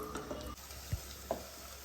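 Onions fry in a pan, making a soft, steady sizzle with a few quiet scrapes and knocks from stirring. No one speaks.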